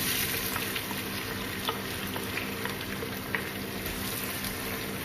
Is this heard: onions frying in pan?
yes